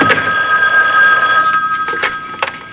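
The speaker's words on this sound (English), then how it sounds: "There's my phone" A household telephone rings loudly and close, its bright electronic bell warbling steadily and then breaking into shorter bursts, with no talk over it.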